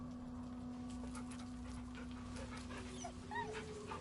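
A dog named Scratch in the video game Baldur's Gate 3 whimpers and pants softly over a steady background hum, with a few short, high whines near the end and no talking.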